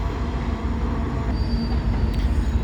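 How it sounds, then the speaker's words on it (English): A train rolls past outdoors as a loud, steady rumble of wheels on rail, with a thin squeal rising briefly near the end, heavy low roar throughout and no voices. "There's a train coming."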